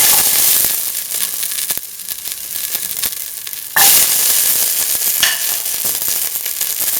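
Shallots hit hot oil in a pan for mung bean tomato fried rice, sending up a loud, bright sizzle that jumps sharply partway through and keeps hissing steadily, with faint stirring and no talk.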